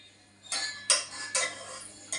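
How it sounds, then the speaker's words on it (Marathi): A child bangs metal pots and pans in a home kitchen: four sharp clattering clanks at irregular intervals, close and loud against a quiet background. "आदळायची नुसती भांडी अशी"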